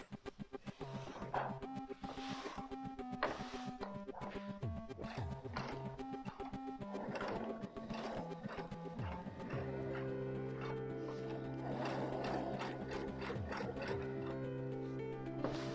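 A sewing machine stitching the collar of a long kimono-style dress in thin fabric, running in steady mechanical bursts with a rhythmic whirring hum, close and moderately quiet, with no talking.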